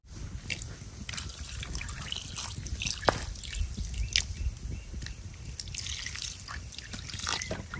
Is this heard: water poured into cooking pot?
yes